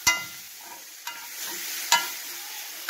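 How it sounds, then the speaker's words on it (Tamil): Vegetable cutlet mixture cooks in a pan with a soft sizzle, broken by a few sharp scrapes and clacks of a spoon stirring it, close by with no talking. "இது நல்லா ஃப்ரை ஆகட்டும்."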